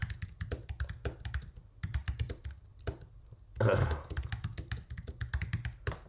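Fingers type a WordPress post on a computer keyboard, producing close, rapid irregular clicking in bursts, with brief pauses and a short louder clatter near the middle.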